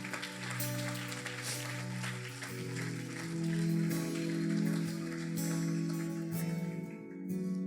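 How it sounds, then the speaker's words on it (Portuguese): A church congregation applauds in waves of clapping that swell and fade, layered over sustained worship music. "Vamos dar um aplauso ao Senhor bem forte."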